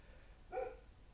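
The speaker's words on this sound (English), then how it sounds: "My dogs are going crazy." A dog gives a single short bark, faint and a little distant, against a quiet room background.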